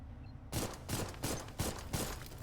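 Gunfire from a gun in the video game Mecha Girl Souls, a steady run of about six loud, evenly spaced shots, each a sharp burst, standing alone with no talk.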